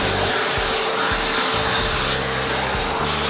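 A Shark Lift-Away canister vacuum cleaner runs close and loud with a steady rushing whine, its motor pitch pulsing slightly as it is moved, with no talking.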